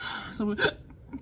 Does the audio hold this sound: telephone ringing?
no